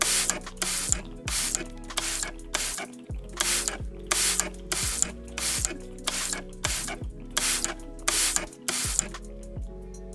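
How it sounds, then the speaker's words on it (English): Repeated short hissing bursts of e.l.f. Power Grip Dewy Setting Spray, about a dozen quick spritzes in a steady rhythm, close and crisp with no talking. "This is the e.l.f. Power Grip Dewy Setting Spray."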